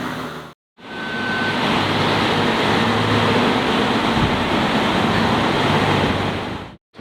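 A Ferrari 12Cilindri with its 9500 rpm V12 drives along a street as a steady, loud broadband roar of engine and road noise. The sound is briefly cut off near the start and again at the end.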